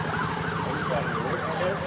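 Emergency vehicle siren wailing in rising and falling sweeps, fairly loud and steady throughout, with low traffic rumble beneath and no talking.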